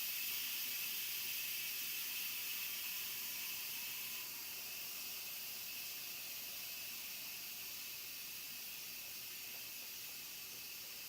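An Instant Pot cooking hard-boiled eggs vents its steam pressure in a steady, loud, continuous hiss that fades only slightly over several seconds.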